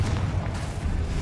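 A Confringo fire spell explodes in Hogwarts Legacy, a dense, rumbling boom with heavy low-end roar that fills the whole short moment at close range.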